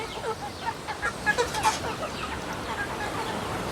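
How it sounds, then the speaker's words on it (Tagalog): Several soft clucks from chickens near and around, scattered over steady outdoor background noise, with a few brighter calls clustered in the middle. "Ito, tsaka mga manok natin ng mga Rhode Island."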